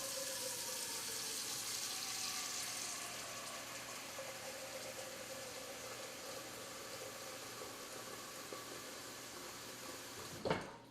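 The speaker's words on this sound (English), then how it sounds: "add water to the pot." Tap water runs steadily into a pot for Kraft macaroni, a continuous rushing splash that softens slightly over time and ends with a brief clunk.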